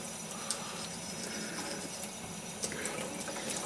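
Running water rinses a glass jar during label adhesive removal, a steady close splashing hiss with a few small knocks and drips throughout.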